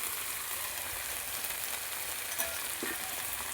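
Spices with dry chilli powder, a little turmeric and salt are sautéed in a pan, giving a steady, even sizzle and frying hiss with faint stirring scrapes. No one speaks.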